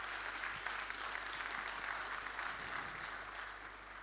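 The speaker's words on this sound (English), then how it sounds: "A great applause to you first." Sustained applause from a conference audience following an investment panel on private debt, steady dense clapping throughout with no talk over it.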